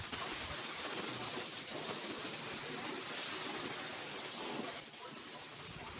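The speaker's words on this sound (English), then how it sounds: "The clear coat is really thin, so it comes out of the gun really fast." A spray gun laying a thin 4-to-1 clear coat on a Toyota AE86 body, a continuous airy hiss held close and fairly even for several seconds, with a brief dip near the end.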